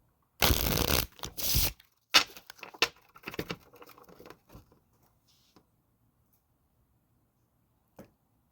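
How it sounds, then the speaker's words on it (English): Tarot cards riffled and shuffled close up, a few quick bursts followed by softer handling and small taps, then quiet. "Let's shuffle a couple times."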